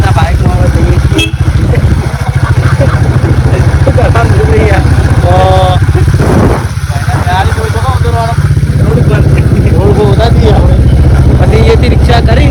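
A motorcycle engine drones steadily and loudly throughout a ride, with wind buffeting and someone talking over it for much of the time.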